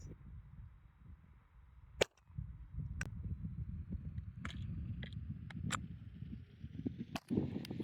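A budget $100 rifle fired during a function test, with sharp isolated cracks at irregular intervals, one loud shot standing out, over a low rumbling outdoor background.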